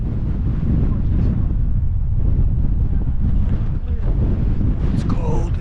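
Strong wind buffets the microphone at the Park Point overlook in Mesa Verde National Park, Colorado, a loud continuous low roar that stays constant under cold, overcast conditions.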